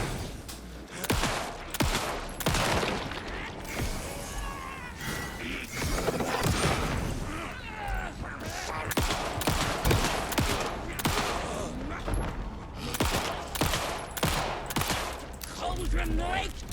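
Dense gunfire from shooting enemies in Alan Wake 2, with rapid repeated shots in bursts and fusillades, loud and close, with a voice speaking intermittently over the shooting.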